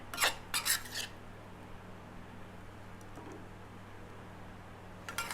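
Spicy stir-fried pork belly with eggplant being scooped from a pan onto a plate, a few quick metal utensil scrapes and clinks at the start, then quiet with faint clinks later.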